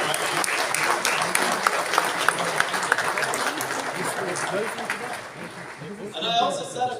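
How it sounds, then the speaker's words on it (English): A crowd at a members' motivational event gives a long, dense round of applause with a few sharper claps standing out. It fades toward the end as a voice starts talking. "let's give both of them and Mr. Sanu a massive, massive round of applause"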